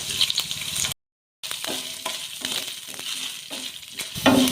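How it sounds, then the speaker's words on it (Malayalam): Coconut pieces frying in oil in a pan for a Kerala bitter gourd stir fry, a sizzling hiss broken by a brief silent gap, with several stirring scrapes and a clatter near the end. "തേങ്ങാക്കൊത്ത് ഫ്രൈ ആയി വന്നിട്ടുണ്ട്"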